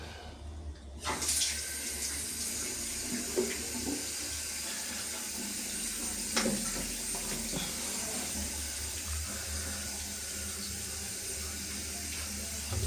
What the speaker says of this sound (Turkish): Şöyle su salalım görelim.